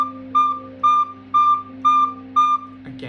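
A recorder plays five evenly spaced, tongued notes on one steady pitch, each a short, clean, slightly breathy tone set apart by brief gaps, loud and close, ending in a small rustle.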